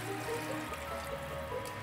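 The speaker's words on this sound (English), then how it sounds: "you're gonna add the water. And I'm gonna use 4 cups of water." Water trickles and splashes as four cups are poured into a simmering cooking pot, a continuous close liquid gurgle with no talk.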